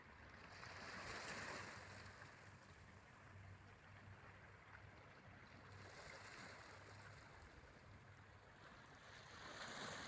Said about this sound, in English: Can you hear the waves? Just lapping at the pebbles on the beach.